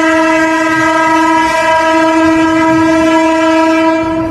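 A Narasapur to Guntur passenger train sounds its horn in one long, loud, steady blast that fills the whole stretch without a break.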